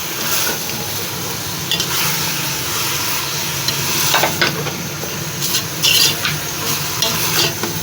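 Potato and fenugreek (aloo methi) frying in a pan, a loud continuous sizzle with hissing steam and repeated stirring scrapes and spatula knocks, close by, with no speech.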